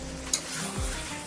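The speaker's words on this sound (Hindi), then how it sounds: "अच्छा से मिक्स करेंगे।" Chicken being stirred in a hot pan: a spoon scrapes the pan bottom and the food shifts under a steady background sizzle, close up, with no talking.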